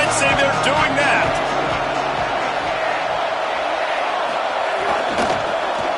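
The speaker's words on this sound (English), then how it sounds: "They challenge this crowd to bring the energy, and I'd say they're doing that." A football stadium home crowd roars and cheers throughout, a dense, loud wall of voices with scattered whoops, while a commentator talks over it.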